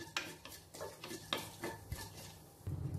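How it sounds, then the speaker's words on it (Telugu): Cumin seeds and black pepper stirring in hot ghee over a medium flame, with scraping spoon strokes against the pan and soft, steady frying close by. "మీడియం ఫ్లేమ్లో 1 నిమిషం ఈ జీలకర్ర మిరియాలని ఫ్రై చేసుకోవాలి."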